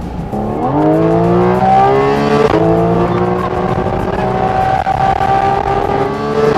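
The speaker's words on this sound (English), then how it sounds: "Best sounding Porsche ever." Porsche GT4 RS with a mid-engine, accelerating hard on a race track, loud and close, the engine note climbing through the revs, dropping at a gear change, then rising again.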